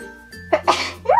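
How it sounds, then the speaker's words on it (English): One close, sharp human sneeze, with a quick intake of breath before the burst and a brief exhale after it. "I gotta sneeze."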